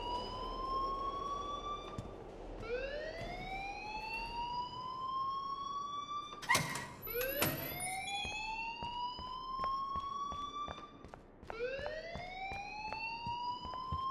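A school alarm siren in Life Is Strange wails in repeated rising sweeps, each tone climbing and holding before restarting, with a brief clatter midway and no voices over it.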